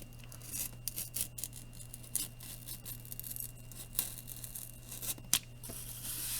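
A blade cuts slowly through cardboard for a relief art piece in quiet, intermittent scraping and tearing strokes, each short and close, separated by pauses.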